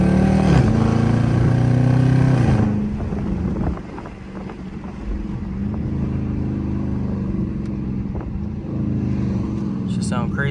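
A Dodge Charger RT in track mode accelerates hard in second gear, its engine rising in a loud climbing roar before it drops back to a rumbling cruise, with wind noise and someone talking over it.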